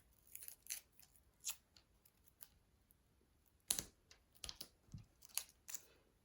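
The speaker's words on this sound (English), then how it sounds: "I'm going to grab my scissors, I'm going to cut a foam pad in half" Scissors snip through a foam pad during a Christmas reindeer cardmaking project, a series of short, quiet crisp cuts spaced irregularly, with a louder pair of snips near the middle.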